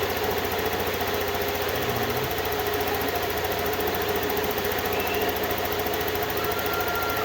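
A Suzuki Samurai 155 motorcycle engine idling during an RPM check after an ECU reset, making a steady close mechanical hum with a faint ticking rattle and no talking.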